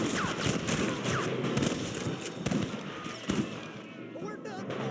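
Gunfire in Red Dead Redemption 2 rings out in a rapid scatter of sharp shots during a fight with rustlers. Game voices talk over and between the reports, which fade toward the end.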